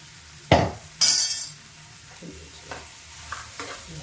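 Pea nimona being stir-fried in an iron kadhai: scraping stirs and a loud clatter of the spoon against the pan over a soft, steady sizzle, with a few quieter scrapes and taps.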